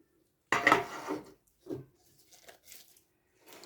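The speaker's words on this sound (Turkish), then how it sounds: "Şimdi doldurduğum kavanozları tenceremin içine yerleştiriyorum." Hard clinks and knocks as filled glass jars of tomatoes are set down into a metal pot, one sharp clatter followed by a few softer taps.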